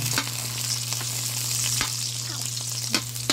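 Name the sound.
garlic frying with onions in pan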